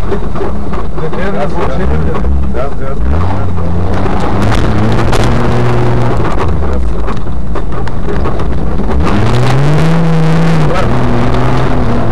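A car engine revs in repeated rising and falling surges as the throttle is pressed and released, loud and close with heavy wind rumble, while someone talks over it.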